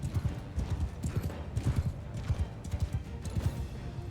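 A horse gallops in the video game Mount & Blade II Bannerlord, with rapid, rhythmic hooves pounding close and loud throughout, unbroken by speech.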